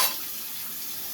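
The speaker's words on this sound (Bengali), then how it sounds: "গরম করে নিয়ে পানিটা ফেলে দেব।" Hot water with turmeric is poured away from a pot, giving a short, close splashing pour that starts with a sharp burst and then runs steadily.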